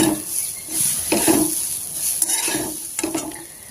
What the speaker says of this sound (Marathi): एक ओला नारळ असा एकदम बारीक दळून घेतलेला आहे तो घालून घेऊया छान परतून घेऊया